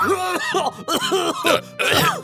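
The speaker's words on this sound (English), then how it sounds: "as you start coughing the water back up" Harsh, sputtering coughs, bringing up swallowed salt water, come in several rough bursts with gasping throat sounds between them, close and loud.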